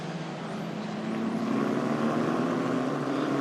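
Italian F4 Abarth single-seater race car accelerating out of the final corner on a restart at Paul Ricard, a steady loud engine roar that swells slightly as it builds, with no one talking.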